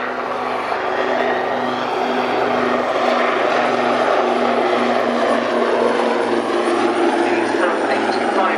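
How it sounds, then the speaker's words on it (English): Steady rotor and engine drone of two Leonardo Wildcat HMA2 maritime attack helicopters overhead at an airshow, loud and continuous throughout with no pauses. "With 2 Leonardo Wildcat HMA-2 maritime attack helicopters."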